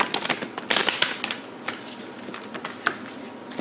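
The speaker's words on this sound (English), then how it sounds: "I'm actually shuffling these, okay?" A deck of playing cards is shuffled close up, with rapid crisp riffling bursts and flutters that are densest early on, then sparser clicks and snaps of cards being handled.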